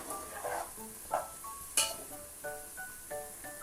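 Onions frying in a pan until golden brown for a white lobia gravy, with a soft sizzle under repeated light clinks of a spoon stirring against the pan.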